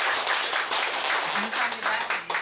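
Audience clapping at a community gathering in Daegu, a fairly steady patter of many hands, moderately close, with voices murmuring underneath.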